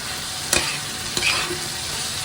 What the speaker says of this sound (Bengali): ইলিশ মাছ ভাজার তেলের ভিতরে আমি চিচিংটা ভাজি করে নিচ্ছি